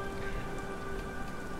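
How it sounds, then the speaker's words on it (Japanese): Steady rain patters densely on surfaces in Beyond: Two Souls, a constant close wash with a faint tonal hum beneath and no talk. "まいった、雨かよ。"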